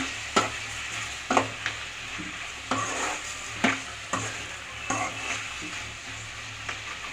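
Tomatoes and onion sautéing in a pan for a homemade chicken gravy, a low continuous sizzle with periodic scraping stir strokes and light metal clinks, close and steady, no talking.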